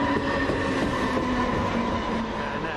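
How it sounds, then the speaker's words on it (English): A Southern Railway Class 377 electric multiple unit runs steadily past at close range, a continuous loud rolling rumble with a faint rail hum and light clatter, and no voices. "1418 Southern Railway service from London Bridge to London Victoria. 377418, sorry, 406 will lead the way."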